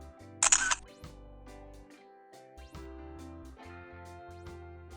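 A DSLR camera set to ISO 12800 fires its shutter once, a short, sharp mechanical snap set against quiet background music.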